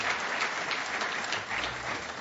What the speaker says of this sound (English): So please join me in a round of applause for a great man